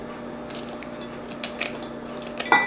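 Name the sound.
knife cutting bacon on a board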